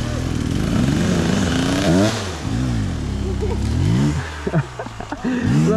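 Enduro motorcycle engines revving on rough mountain terrain, rising and falling in pitch close by, with shouting voices over the engine noise.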